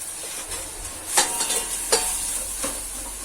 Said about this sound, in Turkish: Şu kadar bir kıymayı atıyorum içine hemen. Soğan da kavrulsun beraber.